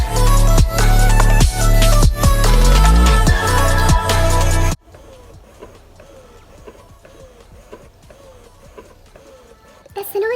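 Electric breast pump running at high speed with low suction, loud rhythmic mechanical pulsing for several seconds, then dropping to a faint steady whir with light clicks before picking up again at the end.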